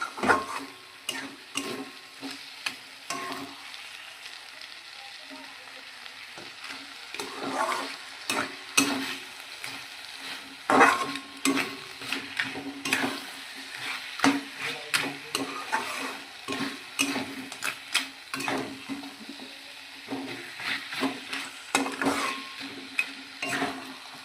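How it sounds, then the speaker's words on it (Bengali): Crab sautés in a pan with spices and no potatoes, stirred again and again, so scraping, clattering strokes repeat over a constant crackling sizzle. The sound is close and busy, with no talking. "মশলা দিয়ে আর কি কষা কষা করে রান্নাটা করবো"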